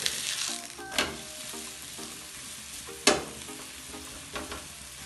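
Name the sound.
akki roti (rice flatbread) frying with oil on a griddle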